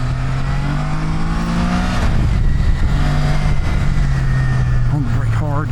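A car engine hums steadily in low gear on Route 16 outside Kerrville in Texas hill country, then rises in pitch as it pulls. Someone talks over the engine throughout.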